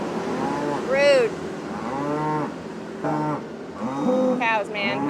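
A cow on a cattle farm moos several times, drawn-out and fairly close, with short pauses between the calls.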